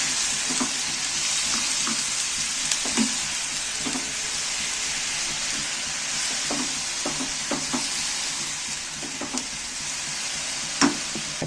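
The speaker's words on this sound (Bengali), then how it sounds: "গাজরটা ভাজা ভাজা মতন হয়ে এসছে" Grated carrot fries in ghee with a constant bright sizzle, punctuated by soft knocks and scrapes as it is stirred around the pan, close up and without voices.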